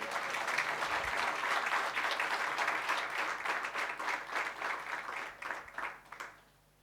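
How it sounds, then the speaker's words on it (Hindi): Seminar audience at a national seminar in Bengaluru applauds a keynote speaker: a steady patter of many hands, fairly distant and soft, dying away into scattered claps near the end. "आप लोग तालियां बजाती होंगी, मेरे लिए बजाइए."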